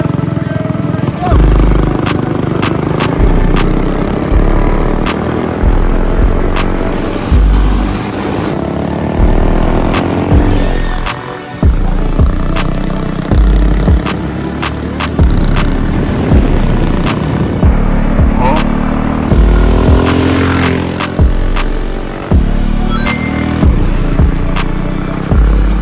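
Two race karts with Predator Ghost 212cc engines drag racing side by side, their small engines buzzing loud and close with repeated rising and falling revs through the whole run.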